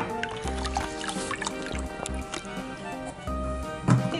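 Small splashes and dribbling swirls of water in a basin as a measured dose of laundry detergent is stirred in to dissolve, close and moderately quiet, with steady musical backing underneath and no talking.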